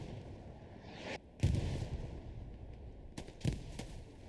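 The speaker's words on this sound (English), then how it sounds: "Grenades going out." Grenades burst in a Hell Let Loose match, a few sharp blasts spaced over a few seconds amid steady battlefield rumble and distant gunfire, moderately loud.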